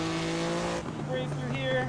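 Race car in a driving sim drifting through a corner, engine tone dropping and shifting as tires squeal briefly, close and steady, with a driver talking over it.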